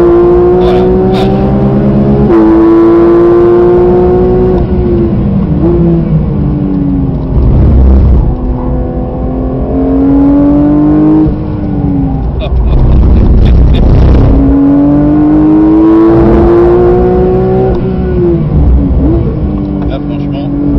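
A car engine revs hard at a racetrack, its harmonic drone climbing and falling through repeated gear shifts, loud and close, with people talking over it.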